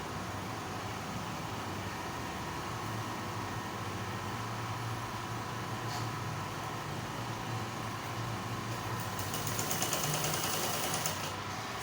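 A sewing machine stitches kimono dress fabric with a steady, continuous mechanical whir that holds at the same level throughout, close by, with no talking.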